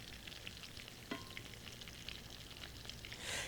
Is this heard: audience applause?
no